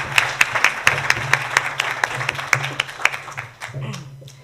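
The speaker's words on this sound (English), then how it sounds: "give them a round of applause" A Rotary club meeting audience applauds, a room of hands clapping with sharp individual claps standing out, steady and lively before tapering off near the end while a voice murmurs underneath.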